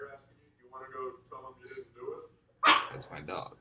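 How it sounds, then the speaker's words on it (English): A pet dog gives a sudden loud, close bark burst, yelping a few times near the end, after a stretch of quieter indoor speech. "That's my dog."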